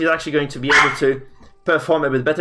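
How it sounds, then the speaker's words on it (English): A pet dog barks repeatedly, close and loud, in quick yips and bow-wows beneath someone talking over an esports tournament broadcast. "my dog casually barking at 100 people"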